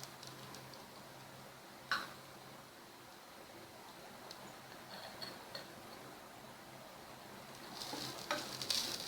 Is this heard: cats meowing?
no